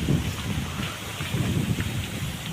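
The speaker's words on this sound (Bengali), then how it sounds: "আর মাঠে কত জোরে হাওয়া বইছে, কত জোরে হাওয়া বইছে।" Strong wind gusting across open rice fields after rain, a dense, steady roar with rumbling low-end buffeting that swells and eases over a couple of seconds, close and fairly loud with no talking.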